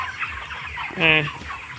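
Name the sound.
chickens clucking in poultry farm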